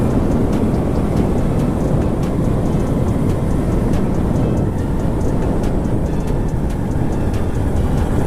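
A ready-to-run RC car motor revving hard at a range, a loud, continuous broadband roar with a steady high whine that holds throughout, heard alone with no talking.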